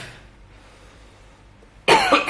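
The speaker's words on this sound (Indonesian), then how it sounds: "batuknya baru hari ini sih, parah banget hari ini tuh" A man coughs once, a sudden loud burst near the end after a stretch of near silence and faint room noise, in a hospital setting.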